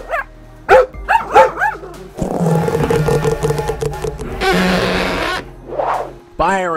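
Several dogs bark and yip in quick bursts, loud and close, mixed with a busy stretch of rustling and clatter in between.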